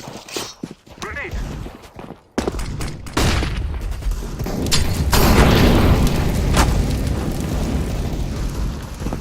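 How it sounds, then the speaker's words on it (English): A grenade blast in Counter-Strike (CSGO) lands as a sudden loud boom, followed by sustained rumbling gunfire and explosions, with shouted voices over the chaos. "Grenade!"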